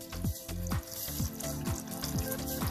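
Two cups of water pour steadily into a cooking pan to start a kadha, a spiced immunity drink, as a continuous splashing wash under a soft, regular backing beat.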